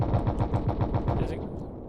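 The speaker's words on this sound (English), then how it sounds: "So let's use our guns. We have 4 cannons." Four cannons on an A1 Skyraider in Stormworks fire in a rapid, steady burst of about ten heavy thuds, loud and close, trailing off after a second and a half, with talk underneath.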